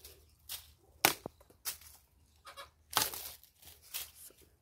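A backyard hen gives a few scattered, fairly soft clucks with quiet gaps between them.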